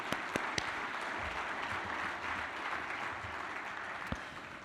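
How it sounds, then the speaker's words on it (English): A gala audience at Harrisburg University gives the students a sustained round of applause, dense even clapping throughout with a few sharper claps standing out near the start. "Another round of applause for them."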